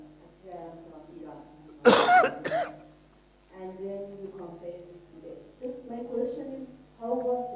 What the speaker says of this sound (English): my cough is ready